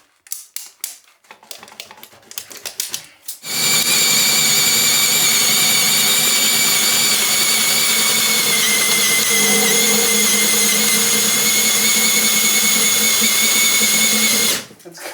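A power drill bores overhead into wood framing before insulation goes in, a loud steady high whine held for about eleven seconds after a few sharp clicks and knocks, then cut off abruptly.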